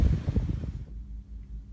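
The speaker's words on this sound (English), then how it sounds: "It's pretty windy out here" Gusty wind buffets the microphone in low rumbling bursts, then settles into a steady low roar.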